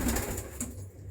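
Pigeon coos from a breeding pair in a pigeon fancier's loft, a few soft low rolling calls close by with faint background noise and no talking.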